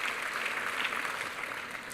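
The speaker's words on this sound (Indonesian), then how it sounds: "Tepuk tangannya pula yang paling meriah buat Tuhan kita." A church congregation claps at a worship service, a dense, even wash of many hands. The applause is steady and moderately distant and lasts under two seconds.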